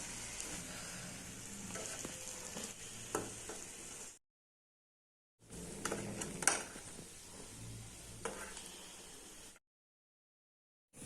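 Egg pepper gravy ingredients sizzle in hot oil in a pan, a steady close frying hiss in two bursts separated by a short silence, with faint stirring clinks and no voices.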